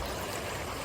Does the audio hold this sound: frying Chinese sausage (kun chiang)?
no